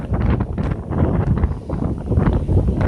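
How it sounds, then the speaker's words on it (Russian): Strong wind buffets the microphone outdoors in a residential district of Bendery, roaring and gusting unevenly throughout, loud and close. "Вот, смотрите, какой ветер."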